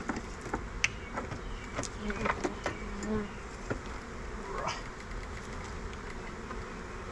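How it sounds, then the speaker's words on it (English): Honeybees buzz steadily around an open eight-frame hive box, a continuous close drone with individual bees zipping past the listener at varying distances. "It's funny, there are bees all around me"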